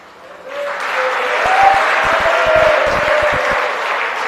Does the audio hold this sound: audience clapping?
yes